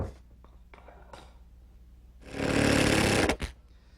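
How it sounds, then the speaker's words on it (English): Hammer taps tack a wooden batten onto a wooden frame, a few short knocks early on, then a dense burst of scraping or hammering for about a second before the sound trails off. "Now to keep it square, I think I'll just tack a batten on it"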